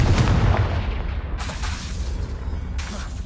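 Confringo spell cast in Hogwarts Legacy, a heavy booming blast followed by a couple of sharper explosive bursts, loud and close with a rumbling tail.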